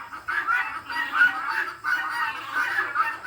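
Free-range poultry squawk and cluck loudly up close as they are caught by hand for wing clipping, the agitated calls coming in repeated overlapping bursts with no talking.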